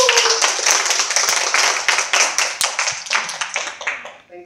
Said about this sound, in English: Nicholas, can you please stand so that we can give you a round of applause?